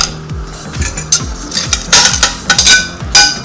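Tofu pieces dropped one after another into a saucepan while cooking a vegan kabocha squash, tofu and rice meal, making a quick run of close, distinct knocks and clatters against the metal pan with no talk.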